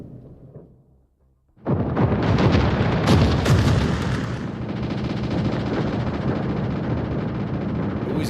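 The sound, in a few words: torpedo strike explosions in the video game World of Warships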